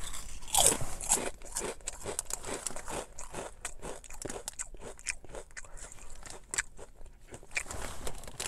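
Ruffles Flamin' Hot BBQ ridged potato chips crunched close up, a steady run of crisp, crackly bites and chewing bursts throughout with no talking.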